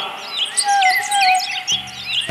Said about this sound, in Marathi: पक्ष्यांचा आवाज यायला लागला.